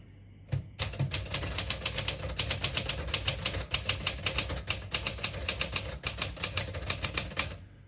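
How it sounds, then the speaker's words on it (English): Steady rapid keystrokes on a seafoam green 1962 Smith-Corona Sterling portable typewriter, a dense, even clatter of close, crisp strikes running for several seconds with a few brief pauses, no talking. "It feels really good when you type on it."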